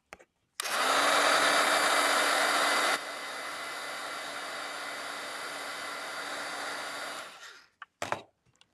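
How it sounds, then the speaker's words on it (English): A craft heat tool blows hot air in a steady, loud roar for about six and a half seconds, easing slightly partway through, then cuts off with a few brief clicks. "Hit this with the heat tool."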